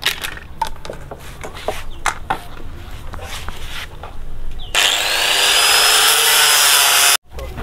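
A power drill bores holes in a PVC rain gutter being built into an aquarium filter, a loud, steady whining grind that starts midway after scattered knocks and handling, runs for a few seconds, then cuts off abruptly.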